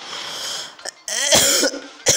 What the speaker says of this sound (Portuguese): desculpa pela tosse